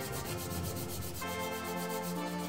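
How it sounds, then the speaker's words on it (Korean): Sandpaper rubs steadily across the surface of a 3D-pen plastic filament figure, a continuous scratchy grinding with even strokes, close and alone without any talk. "사포로 전체 면을 다듬어줍니다"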